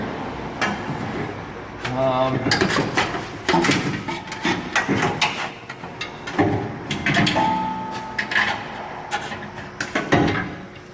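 A new Walker catalytic converter is worked back into place under a 2005 Toyota Tacoma, with close metallic clunks, knocks and scraping in irregular bursts, and a voice occasionally heard between them.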